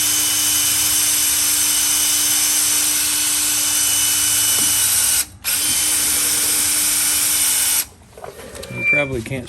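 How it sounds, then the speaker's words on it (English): A power drill whines loudly and steadily, cuts out briefly, runs again, then stops as a few scraping handling sounds follow, working on a Cummins NTC-365 Big Cam diesel engine. "So let's give it a little bit of a drill here."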